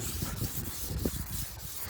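Sandpaper rubbed by hand over car paintwork to level out scratches, a steady close scraping rub in short repeated strokes with no voices.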